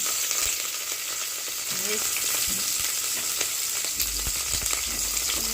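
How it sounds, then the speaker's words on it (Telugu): Onions and curry leaves fry in hot oil with a constant close sizzle and crackle, and a few light stirring knocks partway through. "ఆయిల్ హీట్ ఎక్కిందిలే ఆయిల్ వీడెక్కిన తర్వాత ఆనియన్స్ వేసుకొని కరేపాకు వేసుకున్నాం"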